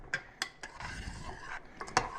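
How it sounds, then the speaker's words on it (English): Onions with butter and juice being tipped and scraped into a pot of marinara, with several clinks and knocks of utensil on cookware over a soft wet slosh, close and moderately quiet. "I'm going to take my onions and then all that butter and juice and put all that right into there."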